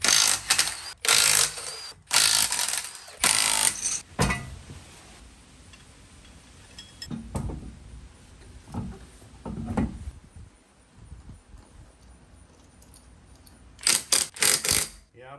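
Ratchet tightening lug nuts onto the wheels of a 1987 Ford Mustang GT Foxbody with SVE wheels, heard as bursts of rapid clicking near the start and end, with quieter clanks and handling noises in between.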